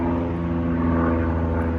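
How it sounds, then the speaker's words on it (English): A propeller aircraft drones steadily at a private jet airport, a loud, even engine hum that holds without change throughout, with no talking. "It's an airport, private jet airport where I'm located. So y'all might hear a lot of airplanes."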